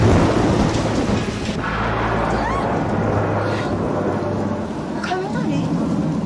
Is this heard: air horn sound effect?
no